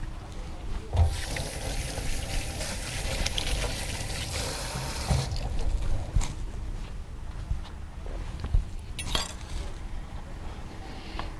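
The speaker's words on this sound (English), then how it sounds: "Let me rinse off my hands real quick." Running tap water splashes and gurgles as hands are rinsed in a kitchen, a broad hiss for about five seconds that then eases into softer trickles and a few light clinks.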